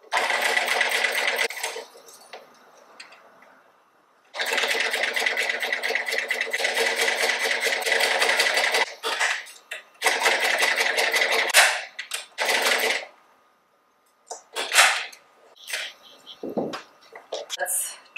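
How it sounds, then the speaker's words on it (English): A sewing machine runs in several bursts of rapid mechanical stitching, separated by pauses and quieter handling noises. "So let's go to the sewing machine and do that."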